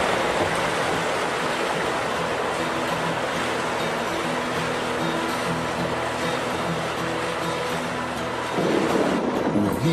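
Rushing mountain river water in an animated film, a steady loud roar of turbulent flow filling the whole stretch, slightly surging near the end, with no voices.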